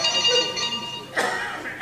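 A new touchscreen mobile phone without buttons rings with bright, tonal electronic chimes in short repeated bursts, loud and close, with a voice briefly mixed in.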